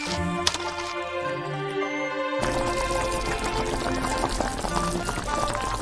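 Water poured into a wok of fried seasonings and sauce for mapo tofu, close up, beginning with a sharp hot sizzle and hiss and then a steady rushing bubble as the liquid fills the pan.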